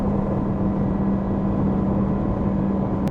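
A motorcycle engine drones steadily on a ride along North Pennines roads, a low even hum with a faint underlying tone and some wind rush, constant and moderately quiet throughout.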